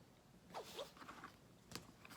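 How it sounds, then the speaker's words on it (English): A quiet zipper on a leather bag being drawn open in short ratcheting pulls, close and soft, ending with a small clack. "The zipper opens really well."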